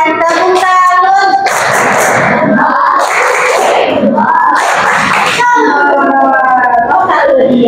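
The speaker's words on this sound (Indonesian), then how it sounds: "Kasih tepuk salut buat Kiandra." Schoolchildren in a classroom shout a rhythmic clapping chant for a classmate, loud chanted voices alternating with bursts of clapping, close and lively.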